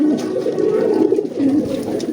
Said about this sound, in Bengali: স্টেনসিল কালার একজোড়া মডার্না কবুতর, খুব সুন্দর একজোড়া কবুতর